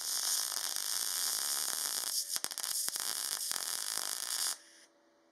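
A Hitbox MIG 200II welder in synergic mode at 45 amps with 0.8 mm wire welds thin 0.8 mm sheet metal. It gives a loud, continuous buzzing crackle with a few brief stutters, and then the arc stops abruptly, leaving a quiet hum.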